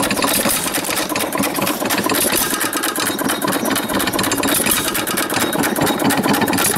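A 1925 Baker Monitor 1 1/4 hp hit-and-miss engine runs steadily nearby, with rapid mechanical clatter and a light rattle from the flywheel handle when it fires, loud and continuous with no talking.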